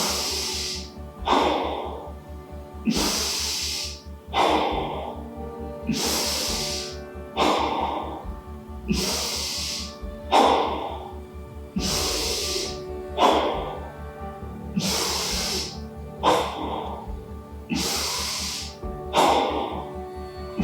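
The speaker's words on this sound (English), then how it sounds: "10 breaths in the belly to get us started" Slow belly breathing during a guided yoga practice: about ten deep, audible inhale-exhale cycles, each ending in a breathy rush of air, evenly spaced and close, over a faint low musical drone.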